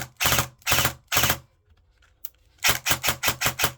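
A Cyma Alfa AK airsoft rifle fires three slower shots, pauses, then releases a rapid burst of five or six close, loud snapping cycles with a faint mechanical click between.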